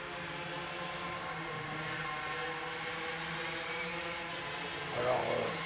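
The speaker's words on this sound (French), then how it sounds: "les jeunes avec leur moto à vitesse" Young riders' geared motorbikes pass in the distance, a steady, faint engine drone that holds for several seconds and swells a little toward the end.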